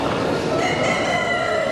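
A Wyandotte rooster crows loudly and close at a poultry exhibition in Bucharest, one sustained crow filling the whole moment.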